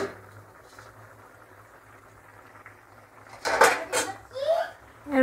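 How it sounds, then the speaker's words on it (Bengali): A lid comes off a cooking pot of potato and green banana curry with mourala fish, giving a few close, sharp clattering knocks midway after a quiet stretch, followed by a short voice. "ঢাকনা খুলে দিচ্ছি"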